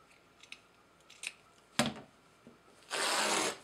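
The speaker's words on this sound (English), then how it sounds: "Now I'll go down to this end, cut that same width down here" Scissors cut a strip of wool coat fabric in a few close, crisp snips and one sharp chop, ending in a longer rasping slide through the cloth.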